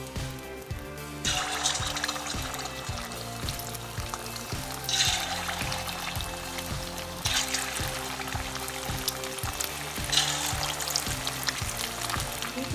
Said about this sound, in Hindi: ये चिकन हमने डाल दिए, जब ये ब्राउन हो जाएगी तो फिर हम इसे निकाल लेंगे